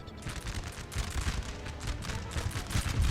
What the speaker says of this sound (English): And now I've got cannons firing from the walls as well.